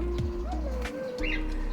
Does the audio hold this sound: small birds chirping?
yes